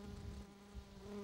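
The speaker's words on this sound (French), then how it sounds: "une grosse abeille là-bas qui va sur les fleurs" A large black violet carpenter bee (Xylocopa violacea) buzzes among garden flowers, a low steady drone with a harmonic hum that swells and fades slightly over a brief moment, faint and close, with no voices.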